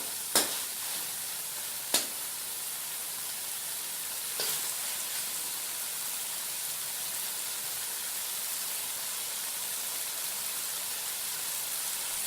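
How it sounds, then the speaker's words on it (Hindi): Camel meat frying in a karahi gives off a steady, soft sizzle throughout, with a few sharp clicks of a utensil early on and no talking. "हमारा गोश्त अब जो है हम भूनेंगे इसे अच्छे से मज़ीद"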